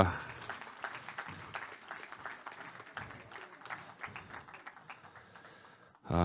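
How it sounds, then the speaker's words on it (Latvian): Applause from a conference audience at an education event, a steady, fairly faint crowd of clapping hands that continues for several seconds and then tapers off, ending with a sudden louder sound. "Paldies ar aplausiem"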